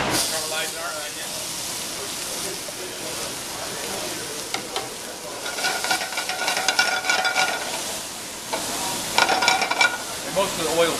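Onion caramelizing in oil in a pan while cooking shrimp with peaches, giving a steady close sizzle and hiss that flares in brief louder bursts, with speech heard alongside.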